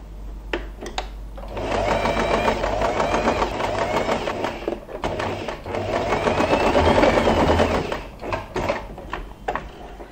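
A sewing machine stitches fabric for a wide scrunchie with the presser foot down, running in a steady, close whir for several seconds, pausing briefly, then whirring on again before stopping.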